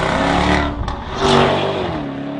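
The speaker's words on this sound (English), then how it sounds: "My favourite bit, honestly, is the noise. That exhaust system is disgusting," A Jaguar F-Type sports car's exhaust is loud and close by. The engine note swells, dips briefly, then surges again into a strong rev with a steady throaty drone.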